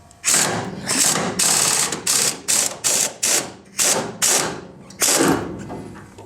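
A ratchet wrench on a 13/16 bolt of a 2006 GMC 2500 Duramax pickup, heard up close in a quick series of about ten loud, rhythmic clicking bursts with short pauses between strokes.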